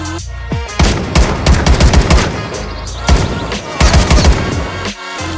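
Modern Warfare 2019 ballistic weapon sounds modded into the video game Fallout 4: loud, close automatic gunfire in rapid bursts with short pauses, layered bangs and mechanical clatter, no voices.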